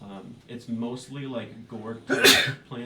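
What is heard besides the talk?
sneeze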